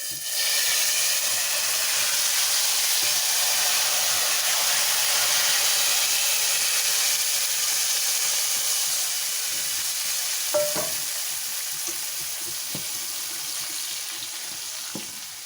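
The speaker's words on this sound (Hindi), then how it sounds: "ये देखिए तड़का हमारा तैयार है और अब हम इसको इसमें डाल देती हूँ" Loud, steady sizzling and hissing of a hot oil tempering poured into karhi fills the whole stretch, with a few faint clinks of a utensil partway through.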